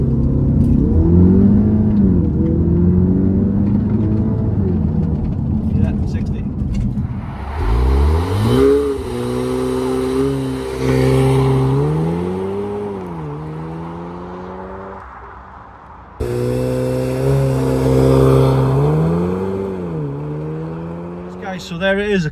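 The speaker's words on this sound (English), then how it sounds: "So you mash the throttle down until it clicks and you'll hear it rev up." An MK3 Audi TT engine revs up under launch control and then accelerates hard, with rising and falling engine tones through gear changes, loud and close, with a pause and a second run, a voice heard early on.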